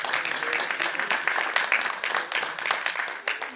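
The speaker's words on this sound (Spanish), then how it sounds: "Dele palmas al Señor." A church congregation applauds in dense, sustained clapping that fills the whole moment at a moderate, even level, with a few voices faintly mixed in.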